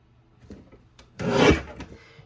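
Cardstock being trimmed on a paper trimmer for a card base, heard as one short, close rasping slice after a few faint clicks.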